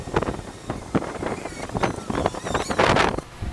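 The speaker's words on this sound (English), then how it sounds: "Boy, it's getting windy." Gusty wind blowing outdoors on a walk, buffeting the microphone in uneven rumbling bursts, loud and close, with no talk.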